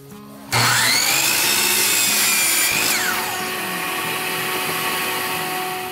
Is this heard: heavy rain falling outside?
no